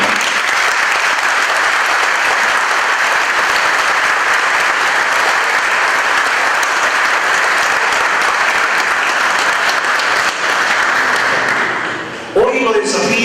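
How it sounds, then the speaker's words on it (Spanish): An audience at a tribute ceremony claps loudly and steadily for about twelve seconds, a dense even wash of applause that fades out near the end as a voice begins. "Yo les pido que rompamos el protocolo y que disfrutemos un fuerte aplauso para los hermanos"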